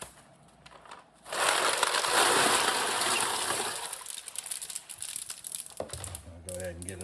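Ice poured and crunched into an ice bath around a one-gallon beer fermenter, a loud crackling, crushing rush that gradually settles into lighter clinks and rustles.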